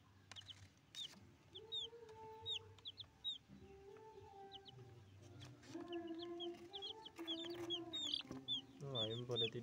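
Rainbow chickens in a coop cluck and chatter, with short, scattered calls coming close together and growing busier toward the end, alongside low background rumble.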